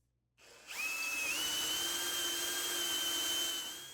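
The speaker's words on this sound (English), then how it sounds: "I used a small drill bit to create a pilot hole for my 1/2 inch bit. Then drilled out the opening" Power drill with a 1/2 inch bit boring into walnut: the motor spins up quickly after a short silence, then holds a steady, high, whining drone, close and fairly quiet, tapering slightly at the end.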